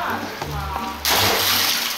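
Water gushes into a backyard pool, a steady rushing roar close by that turns noticeably louder and brighter partway through, with a voice talking over the first half.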